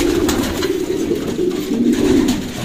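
Kittel-line pigeons in a coop coo close by, loud and continuous, in low rolling, throaty waves with no talking.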